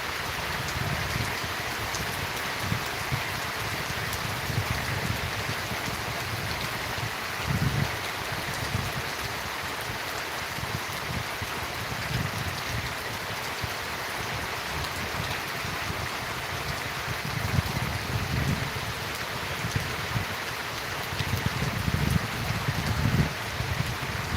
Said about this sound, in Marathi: चांगला पाऊस पडू राहिला आमच्याकडे